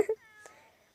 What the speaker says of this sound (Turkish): ay çok tatlı bir kediymiş bu kedi mi?